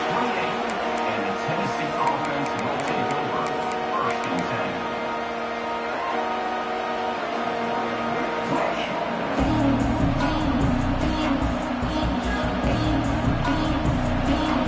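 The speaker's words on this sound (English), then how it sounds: "Listen to the crowd energy here in the early going." Stadium crowd at a Tennessee football game in the early going, a broad continuous roar that swells louder partway through, with a commentator talking over it.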